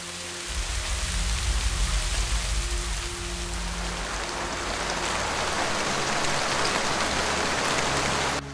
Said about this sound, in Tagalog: umulan na nga.